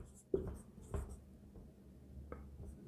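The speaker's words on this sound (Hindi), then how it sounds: "यहां लिख देता हूं।" Pen scratching on paper while a math problem is worked out, a few soft taps and strokes with faint, quiet room background.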